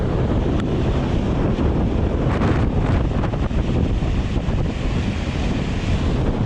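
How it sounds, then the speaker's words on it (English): Water overflowing at Fewston reservoir, a constant heavy rushing roar with gusts of wind buffeting the microphone, loud and steady with no talking. "Fewston reservoir overflowing."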